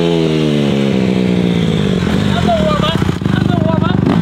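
A 2021 Honda CRF150R dirt bike engine revs hard and loud up close, a steady high-pitched buzz climbing and holding near the limiter with no break, while people talk over it.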